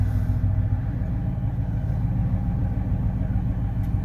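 A truck engine idles steadily while charging batteries for an electric winch, giving a continuous, even low rumble close by with no change in speed.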